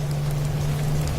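Steady rain falls at night by a bus stand in a Bengali horror cartoon, a constant close hiss with a low droning hum underneath. It runs briefly without a break, and no voices are heard.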